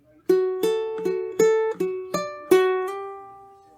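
Ukulele is picked fingerstyle through one measure of a song, about seven bright plucked notes over a repeated low string, steady and close, ending on a ringing note, with no talking.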